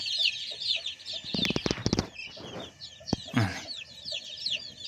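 Dutch (Golland) breed decorative chicks peep in a dense, continuous chorus of high, rapid chirps, with a few louder, lower bursts of nearby fowl clucking mixed in.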